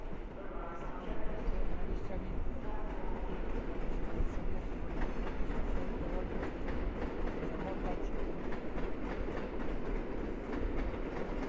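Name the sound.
train passing through Warszawa Zachodnia station at night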